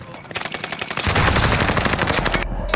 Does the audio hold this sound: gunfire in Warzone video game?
yes